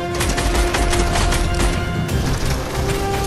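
Guards are shot at during the Fortnite Collision event, with dense rapid-fire gunfire cracking almost without pause over a steady tonal game score, loud and close throughout.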